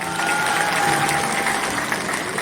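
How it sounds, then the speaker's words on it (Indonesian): An audience applauding at a large Islamic religious gathering in Lirik, Riau, a dense, steady clapping that fills the whole span at a consistent level, with no talk over it. "Ini tepuk tangan untuk masyarakat Lirik."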